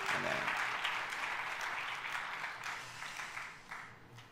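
A church congregation at a revival meeting claps in a steady wash of applause that slowly fades toward the end.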